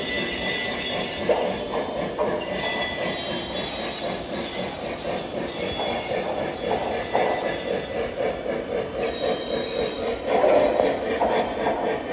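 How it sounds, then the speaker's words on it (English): A Lionel Legacy 2662 Mallet model steam locomotive from 2012 runs on a layout, giving a steady close rumble of wheels on track with light clicking and squealing throughout. "This is a Lionel Legacy 2662 Mallet. It has legacy control, whistle steam, all from the 2012 Lionel catalog."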